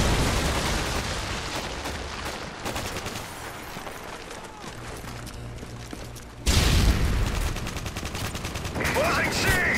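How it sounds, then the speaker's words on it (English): A Predator missile strike in a Call of Duty-style multiplayer match lands as a loud, sudden explosive boom partway through, following a stretch of dense gunfire, bursts of automatic fire and smaller blasts. "Friendly Predator missile inbound."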